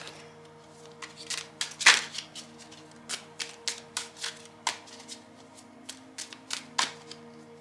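A deck of overlay oracle cards is shuffled by hand, making a run of quick papery riffles and flicks with a few sharper slaps, close and fairly quiet.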